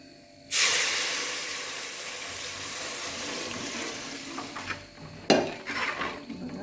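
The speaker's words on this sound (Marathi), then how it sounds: "आता हे पाणी आपण चिकन शिजवून घेतलेलं आहे ती ह्यात ओतूया" Chicken cooking stock is poured into roasted masala with roasted coconut in a hot pan for a village-style chicken curry. A sudden loud hissing sizzle erupts and holds steady, with a second sharp burst of spluttering and stirring near the end.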